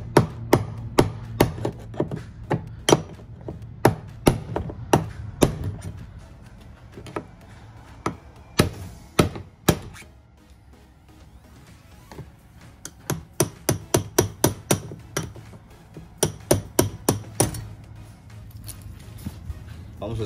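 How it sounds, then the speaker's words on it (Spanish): Sharp metallic hammer blows on a chisel or punch, turning the fuel pump lock ring on a Pontiac Sunfire / Chevy Cavalier 2.2L, struck in quick rhythmic series with brief pauses, close and clear, with little talk. "Y con un punzón de esto, con un cincel, vamos a pegarle acá para darle vuelta."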